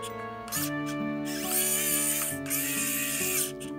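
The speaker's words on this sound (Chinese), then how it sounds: "那因为呢，我现在是十字刀头呢，所以就先把它的十字螺丝拧上去吧" A WOWSTICK 1F+ electric screwdriver with a Phillips bit drives a screw, its small motor whirring in close, steady bursts with a clear pitched hum that shifts as the load changes.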